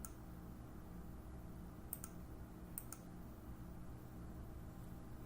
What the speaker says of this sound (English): So I'm going to click here, click there, and then I'm going to click and pull.